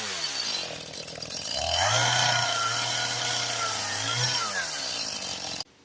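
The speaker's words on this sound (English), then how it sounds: "I'm just chopping little sections out with the chainsaw" Chainsaw chopping sections out of wooden ladder rungs cut from a tree: the engine idles, then revs up to a loud sustained whine under load for a few seconds, eases, and cuts off abruptly.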